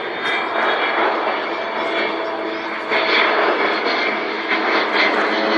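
An Avro Vulcan jet bomber flies slowly overhead at an airshow with a broad, roaring rumble that swells slightly at moments, loud and continuous throughout.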